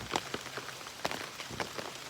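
Rain falls outdoors near a wild native honeybee hive site, a dense steady patter of drops with a few sharper splats rising above it and no voices.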